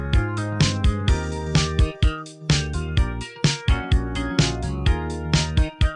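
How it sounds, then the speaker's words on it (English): AI-generated fast 1990s-style indie pop with a driving beat, punchy drums and bright layered instruments playing continuously at full volume. "Let's just go fast, 1990s indie pop fast."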